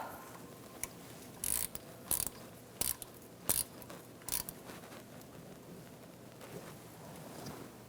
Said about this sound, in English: Start it by hand and tighten it down.